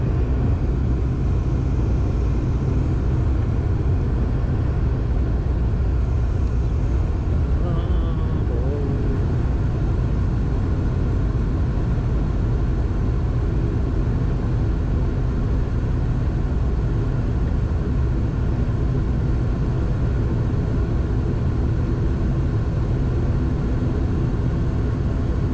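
Small airplane taxiing and braking on a short runway in Zanzibar, a steady loud low engine rumble holding throughout with no clear change.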